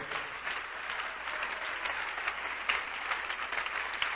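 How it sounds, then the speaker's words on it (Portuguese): A church congregation applauds the Lord during a Brazilian worship service, steady dense clapping held at an even level from start to finish. "vamos aplaudir mais o Senhor."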